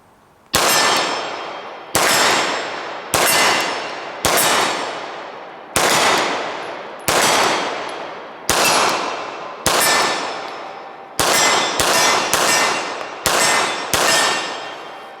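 A rapid string of pistol shots ringing off steel targets at 30, about a dozen loud cracks each followed by a bright metallic clang and short decay, spaced unevenly and quickening toward the end.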